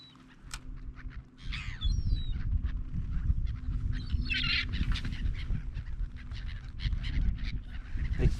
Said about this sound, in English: They're getting all my bread, them seagulls.